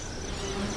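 Buzzing of bees, a steady insect drone with a faint rising whine, close and even, with a low background hum and no talk over it.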